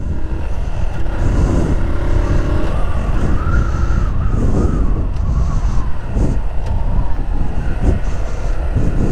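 Car accelerating during a driving lesson on a practice lot, a steady rumbling engine and road drone with rising tonal whine, loud and close, with wind noise over the microphone.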